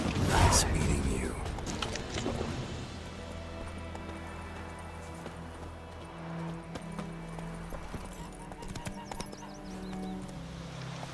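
Hoofbeats of Roach, a horse in The Witcher 3 video game, clip-clop through a busy mix of game music and ambience, with a brief neigh and a voice talking over them.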